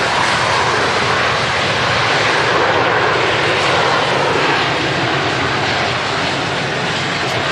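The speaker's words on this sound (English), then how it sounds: "Transat 330 making a racket as it taxis" An Air Transat A330 passenger jet taxiing at Manchester Airport, its engines producing a loud, steady, broadband roar that holds up close and constant throughout with no talking.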